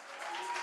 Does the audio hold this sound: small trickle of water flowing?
no